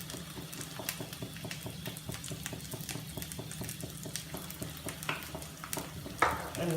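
Stuffed idli masala with red chili powder, coriander powder and chaat masala is stirred in a sizzling pan, a steady soft frying hiss broken by rapid spoon scrapes and light clinks, close by, ending in a louder knock.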